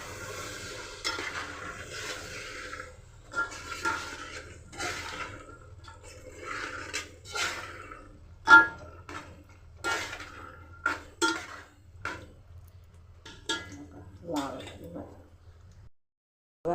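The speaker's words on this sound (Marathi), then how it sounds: "हलवून घेऊया." Spoon stirring bhogichi bhaji, a vegetable dish with carrots, beans and chickpeas, in a pan: repeated clinking and scraping strokes at close range, with a low steady hum underneath.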